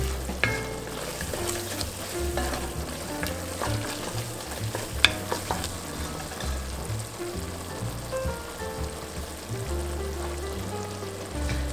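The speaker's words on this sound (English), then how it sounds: "And then mix it." Seafood soup mixture with flour stirred in a hot pan, giving a continuous close sizzle and frying crackle with scraping and stirring sounds, uneven and busy throughout.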